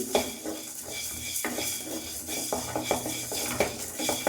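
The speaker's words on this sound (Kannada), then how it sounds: "ಈಗ ಸ್ವಲ್ಪ ನಾನು ಧನಿಯನ್ನ ಹಾಕ್ಕೊಳ್ತೀನಿ ಎಣ್ಣೆ ಹಾಕೊಳ್ತಾ ಇಲ್ಲ ಡ್ರೈ ರೋಸ್ಟ್ ಮಾಡ್ತಾ ಇದ್ದೀನಿ" Coriander seeds dry-roasting in a pan without oil, with a spoon stirring and scraping in quick repeated strokes and a faint background sizzle, close and steady with no talking.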